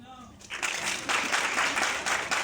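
A crowd of people bursts into applause on request, a dense, steady wash of clapping that starts abruptly and continues loud throughout.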